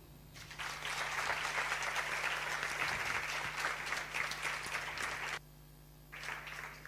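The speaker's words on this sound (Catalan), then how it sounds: "Jo crec que us mereixeu un aplaudiment." A room full of people at a science contest awards ceremony applauding steadily for several seconds, dense clapping that stops abruptly and then briefly resumes.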